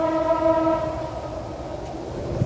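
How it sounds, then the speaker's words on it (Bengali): A passing train sounds a sustained horn blast over a close, loud rumble of rolling wagons, and the horn fades after about a second while the rumble continues. "ট্রেন যাচ্ছে"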